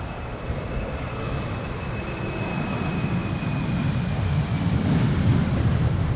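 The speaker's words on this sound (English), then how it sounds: "KLM flight 1045, Embraer 190, going to Birmingham." A KLM Embraer 190 regional jet takes off at Amsterdam Schiphol in crosswinds, a steady broadband engine roar with a thin whine on top, building slightly as it continues, with wind buffeting the microphone and no voices.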